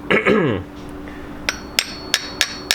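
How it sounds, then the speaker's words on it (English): A hammer taps a small part out of a Chevy HEI distributor during a TBI rebuild, five sharp metallic knocks at an even rhythm, preceded by a short whining tone, loud and close. "Now we get to tap this little guy out that way."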